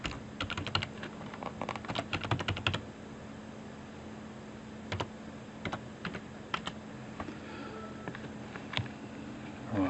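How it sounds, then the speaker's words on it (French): Fingers type a password on a computer keyboard, a close, quick patter of key presses coming in bursts with brief pauses over a faint steady hum. "je vais juste taper le mot de passe"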